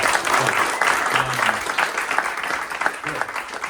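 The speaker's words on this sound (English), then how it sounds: "Round of applause for that." Audience applause at an AI community talk event, a dense burst of clapping with a few voices murmuring underneath, gradually thinning toward the end.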